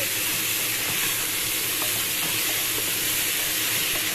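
Coarse sugar is stirred around a hot cooking pan in a home kitchen, giving a steady sizzling hiss with faint scraping ticks throughout, close and continuous, with no talking.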